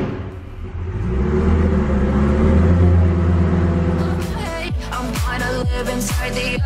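A twin-turbo Lamborghini Gallardo, recently crash-repaired, runs with a loud, steady low rumble, then breaks into a series of sharp revving blips that rise and fall near the end.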